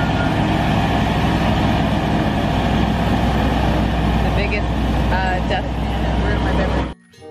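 A toy cement mixer truck sound effect plays loud and close: a steady rumbling engine drone with faint squeaks that cuts off abruptly near the end.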